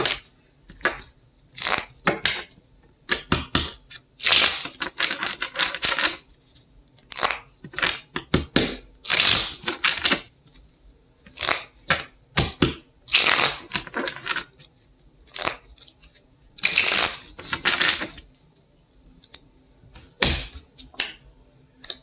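Tarot cards shuffled by hand, close and crisp, as a long run of quick riffling bursts and taps with short pauses between them, and no voice.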